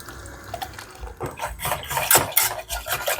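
Spoon stirring flour and milk for pudding in a pot, an irregular series of close scraping clinks and wet swishes against the metal, growing busier toward the end with no talk.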